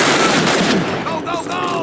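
Loud machine-gun fire in a Call of Duty campaign battle, rapid bursts of close shots continuing throughout, dense and heavy with battlefield noise and shouting voices.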